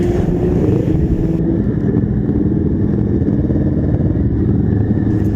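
A motorcycle engine rumbles continuously and loudly while riding on the way to a stadium, a dense low mechanical drone with steady throbbing and some clatter, no speech over it.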